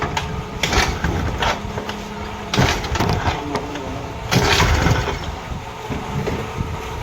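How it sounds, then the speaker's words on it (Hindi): A Honda Activa 5G scooter engine starts and stalls repeatedly, short bursts of sputtering engine noise broken by pauses and mechanical clatter, close up and fairly loud. "देख रहे हैं गाड़ी एकदम स्टार्ट होकर बंद हो जा रहा है बार बार"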